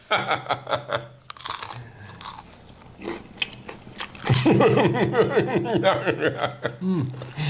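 Crunchy biting and chewing of a freeze-dried persimmon sandwich, close and loud, with rhythmic crunches building toward the end, mixed with brief voices and a chuckle.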